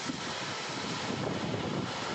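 Strong tornado-like gusts sweep through a residential area of homes and kiosks in Bengkong, Batam, a continuous roaring rush of wind buffeting the microphone, steady and loud throughout with no voices.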